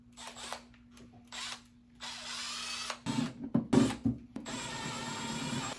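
A cordless drill drives screws into a Milwaukee PACKOUT charging bracket, starting with short whirring bursts, then longer runs with ratcheting clutch clicks near the end, close and loud.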